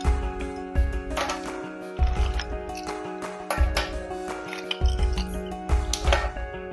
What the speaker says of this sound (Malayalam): ഇതിലേക്ക് ഒരു ഐസ് ക്യൂബ് ആണ് ഇടുന്നത് കേട്ടോ.